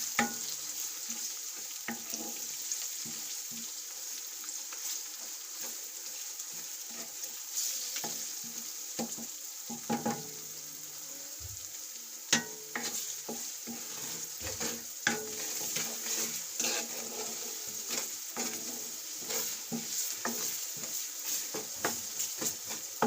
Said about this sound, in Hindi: अब इन चीज़ों को अच्छी तरीके से भूनेंगे थोड़ा